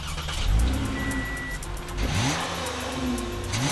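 A 2015 Toyota Camry with a 3.5-liter V6 engine drives with a steady engine hum that rises in pitch as it accelerates, alongside road noise and interior rumble, heard without talk.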